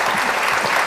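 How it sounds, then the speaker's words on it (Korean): An audience applauds at a book talk held at the Swiss Embassy in Seoul, a dense, steady burst of clapping from a roomful of people with no voices heard over it. "다시 한번 두 분께 좀 박수를 해주시겠습니다"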